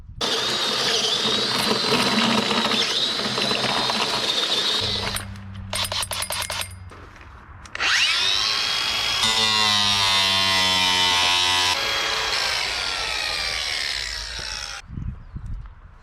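A power drill bores into a plastic septic tank riser for a new mound septic system, a steady loud whine that stops briefly and then starts again, with rattling pauses in between and no talking.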